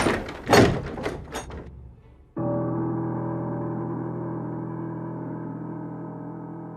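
A door shut in a quiet room, a few loud knocks and thuds at the start, then a steady low hum carries on after it closes.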